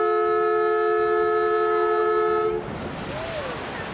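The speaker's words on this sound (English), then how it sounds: "Here we go with a big splash." Amphibious duck tour boat on a Boston tour entering the water: a long sustained horn-like tone gives way to a broad rushing splash and wash of water that continues to the end.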